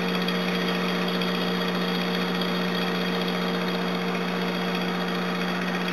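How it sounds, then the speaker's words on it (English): A generator runs steadily and loudly close by, a constant engine drone with a strong low hum and no breaks, alone with no talking. "that is the generator"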